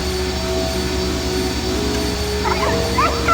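Faint, high whimpering cries from animals rise near the end over a steady droning mechanical hum.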